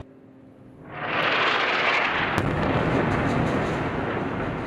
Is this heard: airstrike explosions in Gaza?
yes